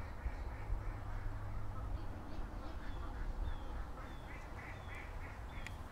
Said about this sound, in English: you got this many ducks in the yard